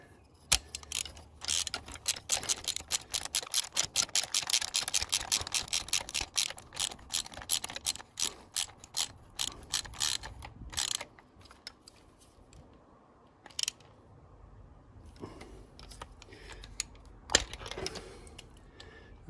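Ratchet wrench clicking as it turns a stuck spark plug socket in the engine of an Audi A3 8P 1.4 TFSI petrol, with dense rapid clicks for about ten seconds, then sparser isolated ticks and a couple of louder knocks toward the end.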